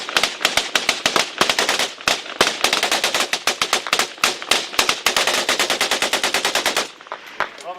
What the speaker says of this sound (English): And here firing, sounds like machine gun fire coming from there.